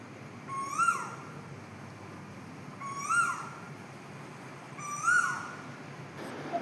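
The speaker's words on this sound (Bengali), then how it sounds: "রাত 2টোর সময় কোকিল এরম মানে একটা তারস্বরেই বলতে পারেন, ডাকতে পারে" An Asian koel calls loudly at 2 am from near an empty street: three shrill, rising cries spaced about two seconds apart ring out over quiet night background.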